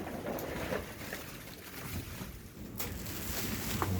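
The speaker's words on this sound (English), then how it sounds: "A lot of high wind today." High wind gusts through an outdoor ice storm, making a rough, rushing roar and rumble that rises and falls, with faint knocks and rattles in the background.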